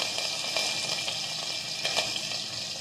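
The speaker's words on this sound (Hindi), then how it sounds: "ये सारे जो हमारा तड़का होता है, इंडियन तड़का, ये जब स्प्लटर करता है" Steady hiss and crackle of Indian tadka spices and curry leaves spluttering in hot oil, a continuous sizzle with faint pops, close by and without voices.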